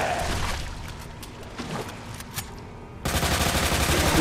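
Gunfire aimed at a sewer monster in Resident Evil 2 on PS5, a dense continuous roar of shots and echoing noise in a waterway, loud throughout and swelling into a heavier blast toward the end.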